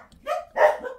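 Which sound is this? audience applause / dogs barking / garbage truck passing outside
dogs barking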